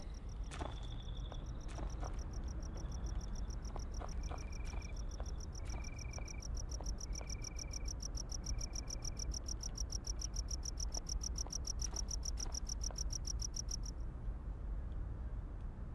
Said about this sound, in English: I like the way the cricket actually stops chirping,